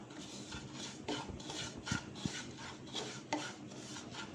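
A spoon scrapes and rasps rhythmically against the pan as semolina fries in ghee, with repeated close, moderately quiet stirring strokes and a few sharper clicks.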